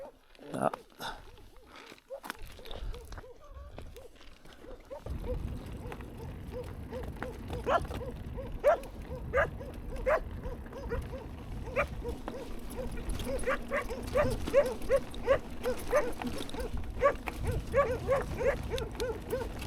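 A dog barks repeatedly in a desert area, the yips and barks coming in an uneven run over steady outdoor background noise, with brief human talk near the start.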